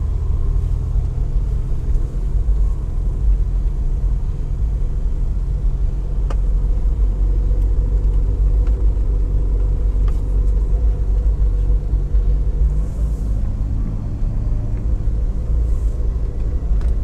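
A car drives along a countryside road in St. Elizabeth, Jamaica. Inside the cabin, a steady, loud low rumble of engine and road noise continues unbroken, with faint small knocks and no talking.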